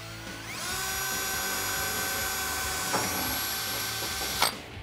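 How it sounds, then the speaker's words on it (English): A power drill whines at a steady high pitch for several seconds while drilling a 1/8 inch pilot hole in sheet metal, then ends with a short sharp burst as the bit breaks through. "we're gonna drill an 1/8 inch pilot hole"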